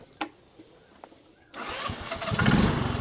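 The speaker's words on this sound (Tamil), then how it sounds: "இப்போ அதை ஆன் பண்ணிவிட்டு வண்டி எப்படி மூவ் ஆகுது அப்படிங்கிற வந்து பார்த்துருவோம்" Homemade Formula 1 style race car engine starting: a few faint clicks, then the engine catches abruptly and runs at a rising, rough idle, close and fairly loud.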